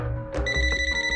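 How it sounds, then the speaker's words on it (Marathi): A telephone starts ringing after a brief rustle, giving a steady, bright electronic ring tone that carries on clearly and close by, with no talk over it. "नाव घेतलं ना त्यांचा फोन आलाच"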